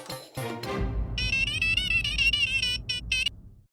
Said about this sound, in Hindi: मैं अय्यर भाई को भी फोन कर देता हूँ। उनका नंबर स्पीड डायल नंबर 2।